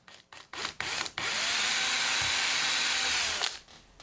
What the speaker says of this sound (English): Drill out the hole with a 1/16 drill bit.